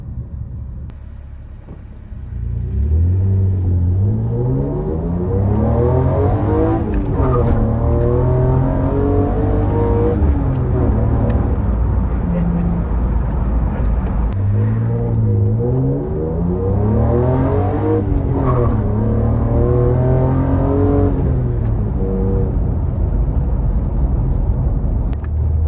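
A manual-converted Nissan R33 Skyline engine pulls through gears while driving, its loud droning note rising in pitch, dropping at each shift and climbing again in two long acceleration runs, heard steadily from inside the car.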